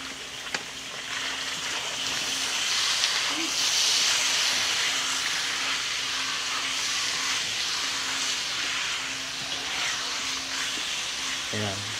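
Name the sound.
pork belly frying in pan, rendering its fat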